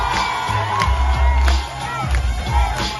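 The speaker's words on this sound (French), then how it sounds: "C'est sous les applaudissements que l'acteur et humoriste sénégalais Mambala Mbow a rejoint la scène du Zèbre de Belleville" A theatre audience at the Zèbre de Belleville in Paris cheers and applauds a Senegalese actor and comedian coming on stage, a dense, steady wash of clapping with whoops, loud and continuous.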